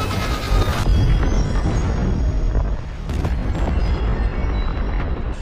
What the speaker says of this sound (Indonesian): seketika terjadi ledakan dan membuat tempat tersebut roboh